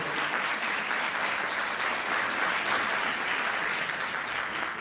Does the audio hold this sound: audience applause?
yes